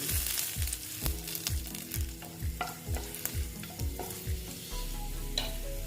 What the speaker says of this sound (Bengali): তারপরে দিচ্ছি আমি এখানে কিছু রসুন রসুনটা আমি কুচি করে নিয়েছি